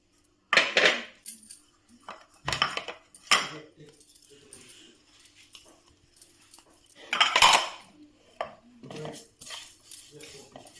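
Flax seeds, fenugreek and mustard seeds dry-roasting in a pan, heard as a few sharp clattering bursts and scrapes of seeds and utensil against the pan, separated by quieter gaps.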